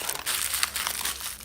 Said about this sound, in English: take some more tin foil, aluminium foil, crumple it up